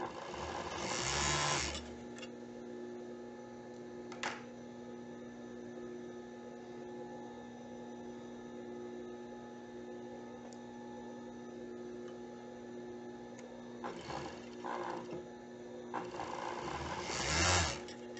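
Overlock machine sewing the honeycomb lining of a balconette bikini top, with short fast bursts of stitching at the start and end and a quiet steady hum in between.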